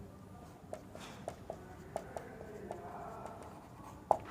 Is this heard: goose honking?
no